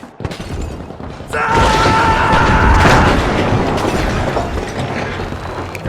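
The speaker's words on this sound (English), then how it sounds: "RPG fire! Throwing fire!" An RPG rocket fired in the destructible multiplayer shooter The Finals: a sharp launch click, then a sudden heavy boom that swells into a long, loud rumbling roar of debris.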